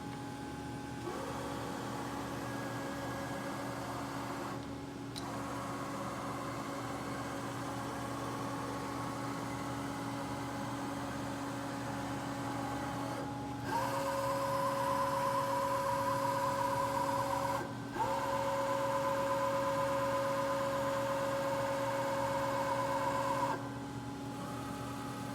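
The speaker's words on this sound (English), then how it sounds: "Can we manually move the table X and Y" A 2003 Sharp 3-axis CNC vertical mill with an Acu-Rite Mill Power MP2 control hums steadily as its table and spindle are jogged manually, servo whines rising and stopping in several distinct moves over a constant motor drone, with no talking.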